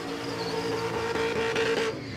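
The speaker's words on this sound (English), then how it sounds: "Cameron Hunt out there, last big skid of the day" A VY Commodore drag car does a big skid at Warwick Dragway in Australia, producing a loud continuous engine roar with screeching tire squeal that rises and then cuts off at the end.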